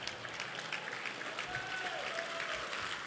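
An audience at a luncheon gives a round of applause, a steady wash of clapping heard at a moderate distance, fairly faint, with murmuring voices underneath.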